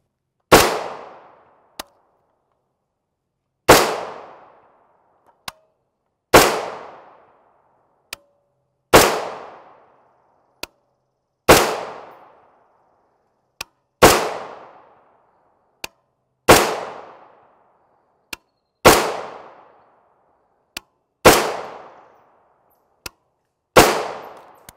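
A 20-inch Palmetto State Armory AR-15 rifle fires 5.56x45mm 55gr FMJ rounds, ten loud sharp reports spaced about two and a half seconds apart, each with a short decaying echo, and faint metallic clicks in between.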